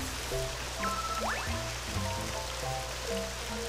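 Game rain from rain clouds in Super Mario Galaxy hisses steadily at low level, while bouncy musical and game tones play over it throughout.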